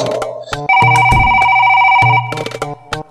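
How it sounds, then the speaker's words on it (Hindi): A phone ringtone plays loudly and close, a sustained electronic tone lasting about a second and a half, surrounded by other musical and spoken sounds. "यार बहुत से ज्यादा तो रिंगटोन ने बढ़ा दिया"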